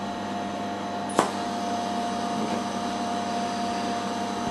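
DermaSweep microdermabrasion machine running its vacuum suction, a steady mechanical hum with a constant whine, briefly interrupted by a sharp click near the start, no talking.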